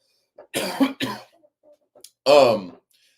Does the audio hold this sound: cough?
yes